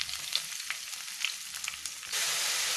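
Ground coconut paste sautés in a hot pan with spluttering mustard seeds and dried chillies for a Kerala drumstick thoran, giving a close, soft sizzle with small crackles. A brighter, louder burst of frying takes over near the end.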